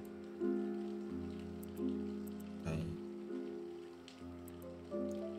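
Rain falls in the horror game If On A Winter's Night, a soft, steady patter. Tonal droning notes swell and fade over it at regular intervals, and a brief noisy burst sounds midway.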